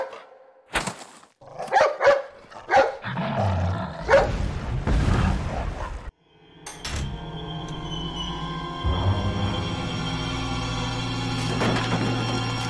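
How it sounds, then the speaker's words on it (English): A dog barks and snarls in a Resident Evil 4 cutscene, a burst of sharp barks and growls early on, then steady low game ambience and rumble with a faint whimper. "That dog."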